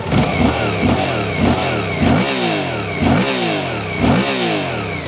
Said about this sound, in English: with that 270-degree crank, it's got a really nice grunt to it, and it does have more of an SV sound than you would from a normal parallel twin